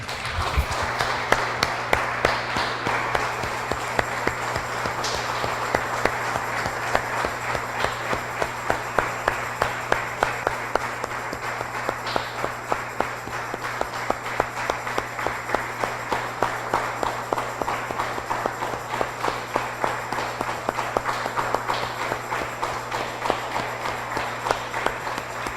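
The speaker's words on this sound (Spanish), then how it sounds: "Damos un aplauso, hermanos, al Señor" A church congregation applauds to praise the Lord, with dense, sustained clapping from many hands that runs steadily throughout and sounds fairly close and loud.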